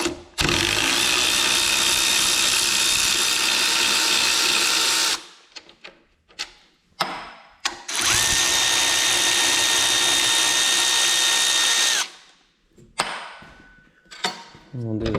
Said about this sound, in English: we'll take these 2 bolts out